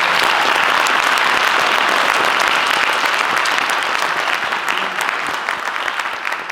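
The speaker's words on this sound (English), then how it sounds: "I just want to give all of you a round of applause." Loud, sustained applause from an audience at a memorial bridge dedication ceremony, dense clapping filling the space nearby and tapering slightly toward the end.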